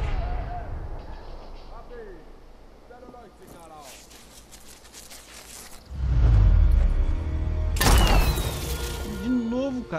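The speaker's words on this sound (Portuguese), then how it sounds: "uma granada caindo aqui perto de mim" A grenade detonates close by in Sniper Elite 4, a deep booming blast swelling loud midway with a second burst following, after quieter gunfire and game sounds under occasional voice.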